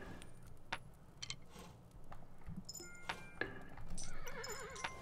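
A horse in the video game Kingdom gives a short whinny near the end, over faint scattered clicks and ticks from the game, all fairly quiet.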